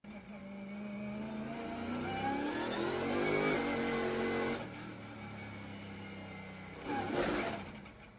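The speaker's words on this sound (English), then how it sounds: "race leader Michael McDowell had a bizarre moment when his throttle stuck." A NASCAR race car with a stuck throttle roars at a sustained high rev, drops off, then surges again in a short burst, heard from a moderate distance.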